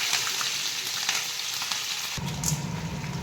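Green chilies dropped into hot oil already popping with mustard seeds, a steady close sizzle of frying that thickens into a louder, fuller crackle partway through.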